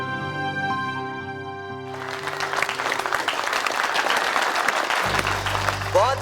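After a dance performance on a children's superhero fantasy TV series, an audience breaks into loud, sustained applause that swells into dense clapping after a brief musical passage, with a low held tone entering near the end.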